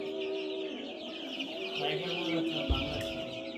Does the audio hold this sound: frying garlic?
no